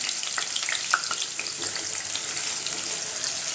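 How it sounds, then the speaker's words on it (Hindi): Large potato pieces frying in hot oil in a pan, a steady dense sizzle with small crackles and pops, close and continuous with no talking. "3 आलू लिए हैं, इन्हें हम फ्राई कर लेंगे।"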